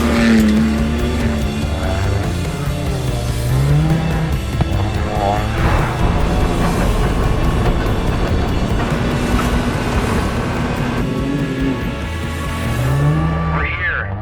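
A Ford Ranger Raptor race truck, driven by Brad Lovell, roars through the Finke Desert Race, its loud engine note rising and falling with skids and tire noise amid crowd and commentary voices throughout.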